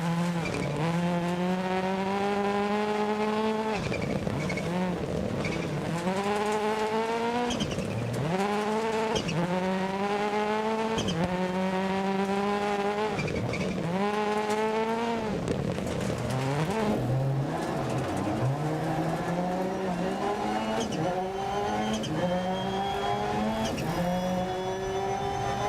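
A rally car in the racing game Dirt Rally 2.0 revs hard through repeated gear changes, its engine note climbing and dropping again and again, with tires squealing and skidding on corners, loud and continuous.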